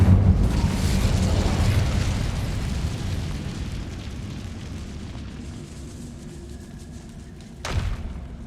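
A fiery Incendio spell blast in Hogwarts Legacy, a loud sustained roaring burst that slowly tapers off, with a second sharp thump near the end.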